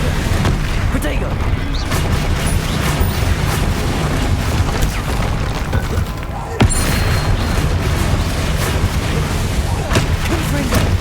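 Explosive spell blasts go off in the video game Hogwarts Legacy, a rough, continuous barrage of booms and rumbling bursts, loud and dense with a sharp hit partway through.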